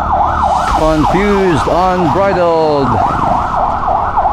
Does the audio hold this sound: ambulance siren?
yes